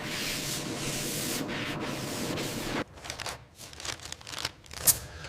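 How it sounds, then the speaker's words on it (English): Aluminum body panel of a 1967 Shelby Cobra being sanded smooth: a close, steady abrasive hiss for a few seconds, then shorter scratchy strokes with brief pauses. "Sanding until it's glass smooth."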